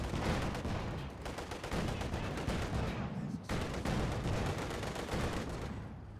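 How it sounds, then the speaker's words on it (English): Dense small arms gunfire in the World War II strategy game Company of Heroes 2, with continuous rapid rattling shots close and loud throughout and a brief gap partway through. "Taking small arms fire."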